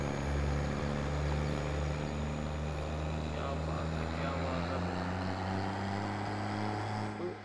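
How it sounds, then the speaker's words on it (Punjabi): New Holland 5620 4x4 tractor engine in a farming game, stuck in mud, droning steadily and loudly with a deep, evenly pitched hum throughout. "ਟਰੈਕਟਰ ਦੀ ਆਵਾਜ਼ ਚੈੱਕ ਕਰੋ ਇਹ"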